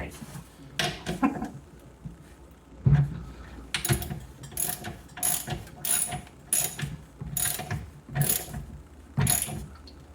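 Socket ratchet clicking on a bolt of a Flymo pressure washer carburetor, awkwardly fitted because of a locking tab; short bursts of sharp ratcheting clicks come in a rough rhythm, close and fairly quiet.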